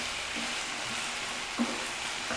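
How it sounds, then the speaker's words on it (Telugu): Potato pieces fry in a pan over a medium flame, giving a steady, even sizzle heard close up with one faint clink partway through. "ఈ ముక్కలు వేసి బాగా ఫ్రై చేసుకోవాలండి. మీడియం ఫ్లేమ్లోనే పెట్టి ఫ్రై చేసుకోండి."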